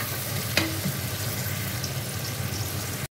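Chopped onions sizzle and fry steadily in a pan for paneer pulao while being stirred, with one sharp clink of the spoon near the start and no talking.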